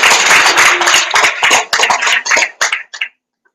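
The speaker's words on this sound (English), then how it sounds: "Applause, please." Brief applause from a congress general assembly audience, loud close clapping in uneven bursts that thin out and stop abruptly after about three seconds, leaving silence.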